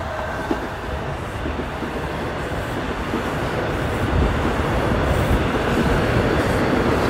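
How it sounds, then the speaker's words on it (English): A southbound subway train on Toronto's Yonge line rumbles past outdoors in winter and heads into a tunnel, a loud steady roar with faint rail clatter that builds slightly toward the end. "there's a southbound train."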